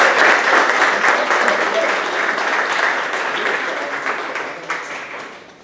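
Audience applause greets artist Lisa Scarbath at an evening reception and talk on a mosaic project, a dense, sustained round of clapping that stays loud before gradually tapering off.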